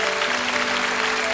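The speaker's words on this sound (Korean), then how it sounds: "큰 박수로 우리 저 가정을 축복합니다" A congregation at an autumn special dawn revival service in a Korean church applauds to bless a visiting family, a steady, dense wash of clapping from many hands, loud and continuous.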